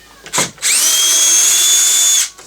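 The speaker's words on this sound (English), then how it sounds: "And then take off the two" A power drill on a 2017 Volvo S60 door panel, removing 7mm bolts: a brief whir near the start, then a sustained steady high-pitched spin for about a second and a half, close and loud, with no talk.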